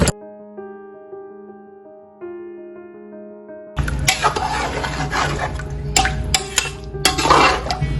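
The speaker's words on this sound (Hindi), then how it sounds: "मैं इसमें डालूंगी जो इसकी यखनी है" Beef paya masala frying in a pot as stock (yakhni) is poured in, a sudden loud sizzling, bubbling rush after a quiet stretch of soft tonal hum, continuing steadily with clinks near the end.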